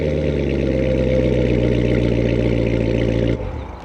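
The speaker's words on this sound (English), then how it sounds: "since this is the automatic, we can actually remote start this and bring this to life." Chevrolet Corvette C7 Z06 automatic with quad center-exit exhaust, remote started and idling, a deep steady rumble close by that drops off abruptly near the end.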